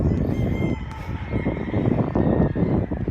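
Chickens at a long poultry farm building in Norzagaray, Bulacan, maybe fighting roosters, keep up a dense, constant clucking and squawking from many birds at once, fairly loud, with no talk over it.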